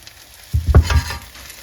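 Zucchini fritters hit a hot pan as they are flipped, giving a brief, close burst of frying and a soft thump before settling into a quieter sizzle.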